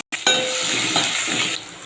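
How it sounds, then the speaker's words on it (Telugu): Green chillies drop into hot oil with tempering spices and set off a loud, steady hiss and sizzle that continues with light stirring, close up and without speech. "పచ్చిమిర్చి వేసుకుని"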